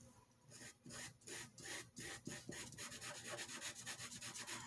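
Kalour soft pastel colored pencil in French Violet scratching across paper in quick back-and-forth strokes, a close, gritty rasping that speeds into rapid short scribbles toward the end.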